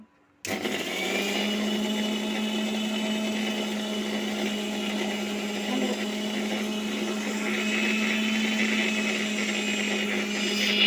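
A mixer grinder whirs steadily as it blends sugar and water, starting abruptly after a brief silence and holding a loud, even motor drone with a strong low hum for about ten seconds.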